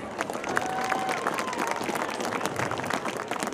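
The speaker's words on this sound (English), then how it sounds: "A warm round of applause for Don Kick" Crowd applause in the stands at a high school football game ceremony honoring alumni, steady scattered clapping with crowd noise for several seconds, fairly distant and moderate.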